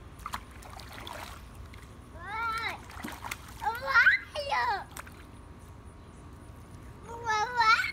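A small child splashes water in a filled baby pool, with a few bursts of splashing near the mic mixed with the child's babbling and an adult talking nearby.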